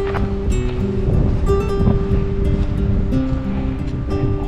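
Steady rushing water at a riverside campsite in the Northern Japan Alps, a continuous broadband wash that is loud and close, with light wind noise and no talking.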